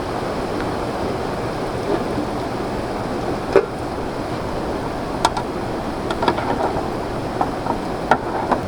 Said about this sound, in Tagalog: Talagang tuloy-tuloy po ang ulan hanggang ngayon.